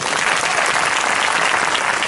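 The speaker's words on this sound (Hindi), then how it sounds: "ताली मारे जरसे" A church congregation bursts into dense, loud applause, a steady wash of many hands clapping together throughout with no talking over it.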